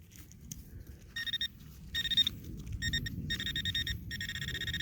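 A metal detector searching for iron and Roman finds in the UK gives repeated high, beeping signal tones in bursts over low rustling and ground noise, faint and close.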